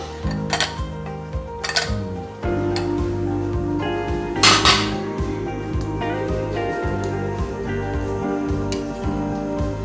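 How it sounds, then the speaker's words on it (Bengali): A lid comes off a pot of freshly cooked Bengali sponge rasgulla, with one sharp metallic lift and scrape amid light clinks of kitchenware and a steady background hum. "এবার আমি ঢাকনাটা খুলে নেব।"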